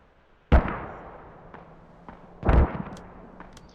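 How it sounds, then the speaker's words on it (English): Mortar fire in the tactical shooter Squad during a tournament match: two sharp, heavy booms about two seconds apart, each with a rumbling decay, plus fainter distant pops in between. "Sending mortars after them as well."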